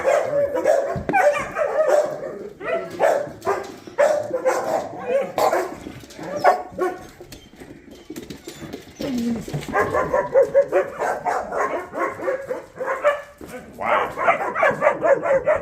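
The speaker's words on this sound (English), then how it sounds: "We got some noisy puppies here." Noisy puppies reunited after a few hours apart bark and yip excitedly in rapid, overlapping bursts close by, with whimpers between the barks and a person speaking at times underneath.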